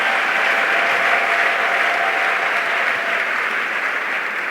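A church congregation applauding steadily at a French-language sermon, with a sustained, even wash of clapping that fills the room at moderate loudness.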